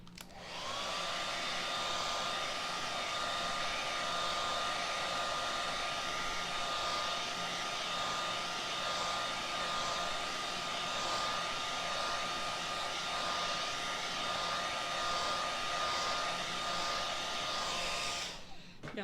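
A hair dryer blows continuously on painted scrap wood, a steady even whine with a faint tonal hum that starts and stops abruptly, heard alone without speech.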